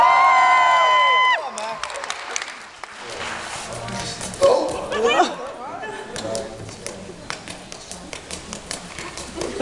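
A convention crowd breaks into cheering and whooping after a short stretch of talk, then scattered claps and shouts carry on in bursts, with voices rising over the noise.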